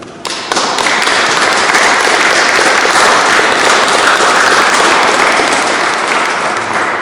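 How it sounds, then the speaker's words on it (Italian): Loud, sustained applause from a crowd at a presentation in Udine, Italy, dense and continuous for several seconds after a brief quiet start. "farei un applauso a chi non c'è più"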